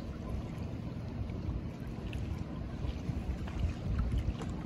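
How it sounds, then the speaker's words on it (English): Water taxi boats on a cold lake at a summer cottage harbour give a steady low motor rumble and water wash, with wind buffeting the microphone throughout. "So those are the water taxis"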